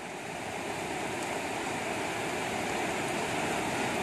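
Floodwater rushes down a swollen river during a typhoon in Bicol, a steady, dense roar that slowly grows louder with no voices over it.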